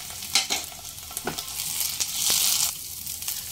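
Ginger-garlic paste frying on a low flame alongside browned onions, a continuous sizzle broken by several scraping stirs of a spatula in the pan, close and fairly loud.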